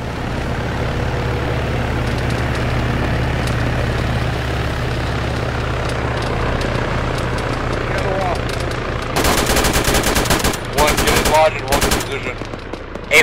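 Gunfire in the ArmA ShackTac Fallujah mission: steady engine-like rumble under faint distant shots, then loud bursts of automatic fire erupt close by in rapid, repeated volleys near the end.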